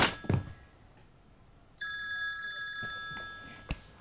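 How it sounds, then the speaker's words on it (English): A telephone rings with a steady electronic bell tone that starts partway in and holds for about a second, following a soft thunk and quiet room sound, with another faint knock near the end. "Oh, phone's ringing."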